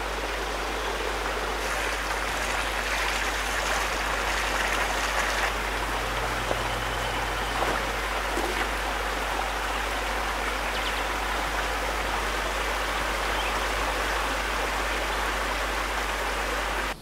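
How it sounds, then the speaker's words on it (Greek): Waterfall pouring over stone at a monastic site on Mount Athos, a steady broadband rush of falling water that runs unbroken and fairly close from start to finish, with no voices over it. "Το τραγούδι του καταράκτη, η φθόγη του νερού και της πέτρας"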